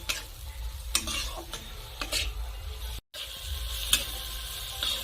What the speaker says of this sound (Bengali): কাঁচা লঙ্কা ও ধনেপাতা কষা মশলার সাথে খুব ভালো করে মিশিয়ে নেব।